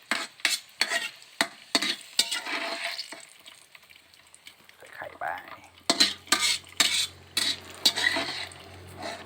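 Beaten egg is poured into hot oil for a crispy Thai-style omelette, with sizzling frying under repeated sharp clicks and scrapes of a utensil against the pan, mostly close and rhythmic.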